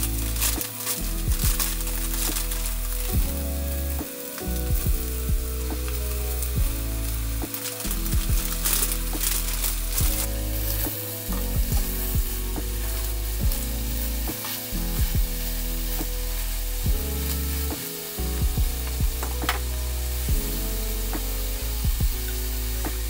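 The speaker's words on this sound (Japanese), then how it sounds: "続いては野菜を炒めます。" Vegetables stir-fry in a pan for an ankake dish, cooked in a homemade kei-truck camper on a freezing snowy mountain. A steady close sizzle with stirring scrapes runs throughout, with music playing underneath.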